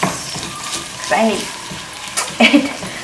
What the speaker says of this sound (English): I am going to add the ground beef. I'm trying to break it with my spoon or spatula